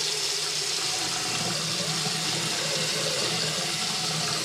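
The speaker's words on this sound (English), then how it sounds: "Let's open the tap in the bathroom sink." A bathroom sink tap runs steadily, a continuous broadband rush of water pouring into the basin, close and fairly loud, with no voices over it.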